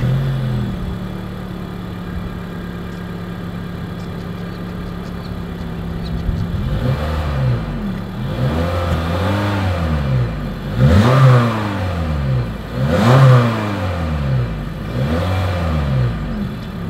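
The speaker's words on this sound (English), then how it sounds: "As always, here is that exhaust clip." A 2020 Honda Fit's exhaust at idle, then the engine revved repeatedly: four or five rising and falling blips after a steady low idle, close and loud, with no voices.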